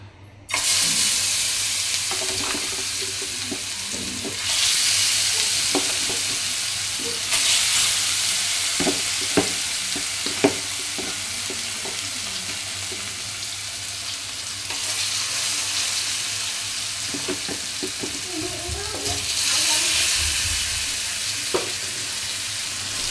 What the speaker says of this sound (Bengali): এই যে এখানে একটা ফ্রাই প্যানে তেল বসাই দিছি এখন দিয়ে দিব মাছ